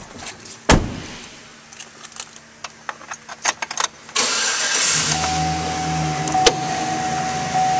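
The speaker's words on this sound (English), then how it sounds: "and now we'll start up this truck" A 2008 GMC Sierra 1500 Z71 4WD extended-cab pickup is started from inside: a door clunk and clicks, then the starter cranks and the engine catches into a steady, close idle.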